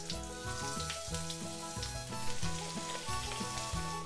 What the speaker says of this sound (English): I put oil in the pan, it's hot, and even with this big skillet, I'm still going to have to fry these in batches